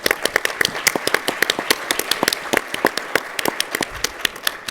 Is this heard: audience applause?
yes